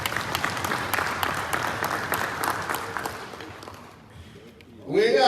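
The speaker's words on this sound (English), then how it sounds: "That ministry deserves a round of applause." Applause in a parliamentary chamber, a burst of many hands clapping and desk sounds that fades over a few seconds, followed by a voice beginning to speak at the end.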